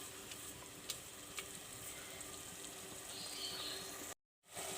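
Minced meat keema cooking in a pot gives a faint, steady low sizzle with a few soft ticks and clinks, ending in a brief cut of silence.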